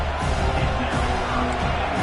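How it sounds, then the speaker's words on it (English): A big stadium crowd in an NCAA football video game roars steadily near the goal line, a dense, continuous wash of cheering with a commentator's voice faintly underneath. "this big crowd doing everything possible to inspire this defense down here near the goal line"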